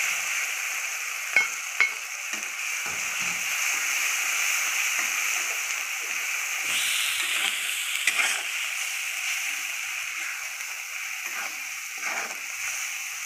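An onion, tomato and spice paste stir-frying in a pan, a steady close hiss of sizzling with occasional soft scrapes and clinks from stirring.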